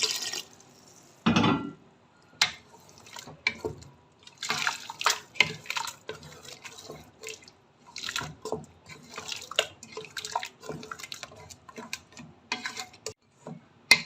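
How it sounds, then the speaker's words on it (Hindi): Water splashes in a quick pour around the one-second mark, then wet stirring, scraping and dripping sounds follow as a cup of water goes into frying Punjabi-style rajma masala to form a gravy, close and without speech. "अब मैं इसमें 1 कप पानी शामिल करके थोड़ी सी ग्रेवी बना लूँगी।"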